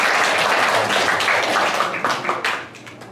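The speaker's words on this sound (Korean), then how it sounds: "우리 6개월 동안 지켜주신 하나님께 우리 박수로 감사의 표시하겠습니다" A church congregation claps together during a service, a lively burst of applause that thins into scattered claps and fades toward the end.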